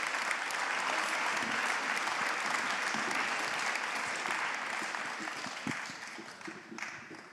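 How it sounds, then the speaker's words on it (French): A crowd at a rally in solidarity with Ukraine at the Hôtel de Ville in Nancy applauds a Ukrainian journalist, with dense, sustained clapping that slowly thins and fades toward the end. "Vous pouvez l'applaudir également."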